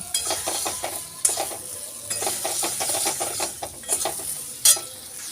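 Ground spices, Kashmiri chilli powder and cumin powder, lightly fried in a pan for a thin hilsa fish curry with potato and eggplant. A steady close sizzle runs throughout, with repeated scraping stirs and a few sharper utensil clinks.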